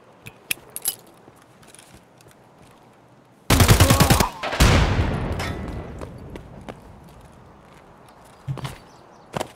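Gunfire in Escape from Tarkov, a loud rapid automatic burst followed by a second stretch of sustained firing and echoing tail, with scattered footsteps and clicks before and after, close and harsh.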